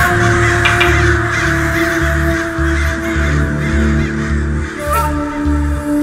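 Crows caw over and over in a loud, regular pulsing rhythm close by, with steady background tones running underneath.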